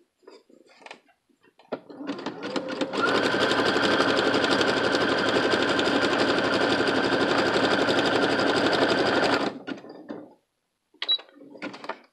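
A domestic sewing machine runs a zigzag stitch set 3.5 wide and 2.0 long with a presser foot, a steady close mechanical whir for about seven seconds, with brief handling noises before and after.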